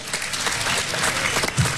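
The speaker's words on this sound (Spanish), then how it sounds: "Un fuerte aplauso, por favor." A crowd at a tennis event applauds in a dense, steady wash of clapping, loud and continuous for the whole short stretch.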